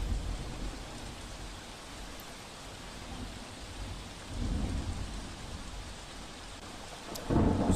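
Heavy downpour in flooded Limbdi, Surendranagar, a steady broadband hiss of rain pouring down, with faint rumbles of thunder swelling twice, no voices.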